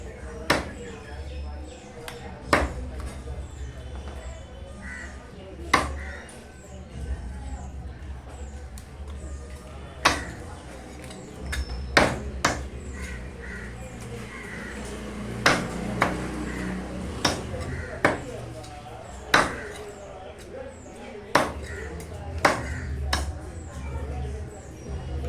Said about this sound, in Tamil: லெக் பீஸ் எல்லாம் தனியாக, கறியெல்லாம் தனியாக வெட்டிட்டாரு.